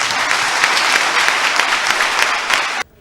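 A large outdoor crowd at a political awareness rally in Adjara, Benin, bursts into loud, dense applause that holds steady for nearly three seconds, then stops abruptly.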